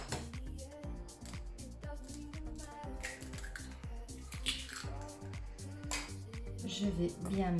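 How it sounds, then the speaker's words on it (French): Tuna croquette mixture with eggs being stirred in a bowl, a steady run of wet squishing and utensil clinks against the bowl, with background music underneath. "Je vais bien mélanger de nouveau"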